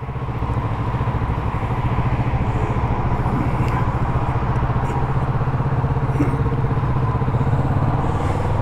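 A 2024 Kawasaki Z650 motorcycle engine running steadily and fairly loud throughout, a continuous even drone with no speech over it.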